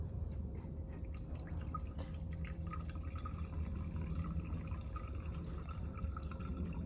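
Fuel sample dripping from the sump of a Piper Lance aircraft during preflight, small liquid drips falling irregularly over a faint steady hum, close and quiet.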